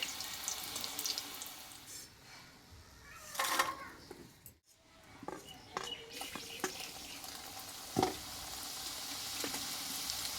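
Nimki, small fried flour snacks, frying in a pan of hot oil: a steady, fairly loud sizzle runs throughout, with a few sharp clinks and stirring knocks standing out above the hiss.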